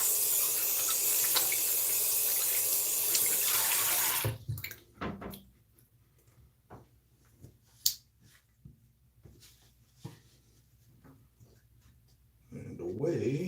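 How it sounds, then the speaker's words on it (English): Tap water runs steadily as hands are rinsed during a wet shave, a loud broadband rush that cuts off abruptly, followed by quieter handling clicks and taps before the water starts again near the end. "Rinse my hands."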